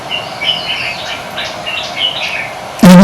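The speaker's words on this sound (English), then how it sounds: "Signal of bird from afar, coming to check." Bird calls heard near a window: a series of faint, high chirps and tweets spread over a few seconds, ending in a sudden loud closer sound.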